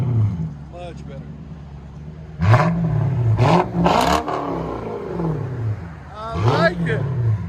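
Straight-piped Lexus V8 revving in bursts, deep roaring pulses rising and falling several times close by, with people talking between and over the revs.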